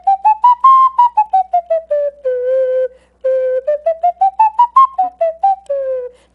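A flutophone, a small plastic pre-band recorder-style instrument, plays a simple melody of clear, breathy, whistle-like notes. The notes are short and detached, some are held, and there is a brief pause midway. It sounds close and fairly loud, with no talking.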